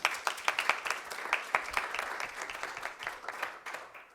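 A modest audience at a panel session applauds a UNAM speaker being introduced, with scattered, distinct individual claps forming a sparse, uneven round that thins slightly toward the end.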